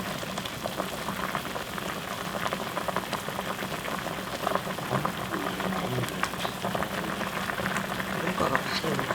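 Water boiling hard in a pot for ramen, a dense continuous bubbling and rolling roar throughout, close and steady, with faint voices in the background.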